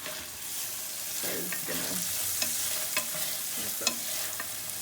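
Asparagus sizzles and softens in a frying pan for cacio e pepe with pan-seared scallops, a steady fry with a few sharp stirring scrapes and clicks, while a voice speaks briefly.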